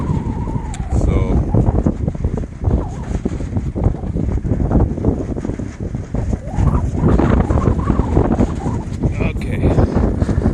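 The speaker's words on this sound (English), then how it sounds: "The Stoic Madrone tent holding up to the high winds here." Strong, high wind gusts buffet a campsite and a Stoic Madrone tent in freezing conditions, roaring and flapping loudly and continuously close to the microphone while someone talks over them.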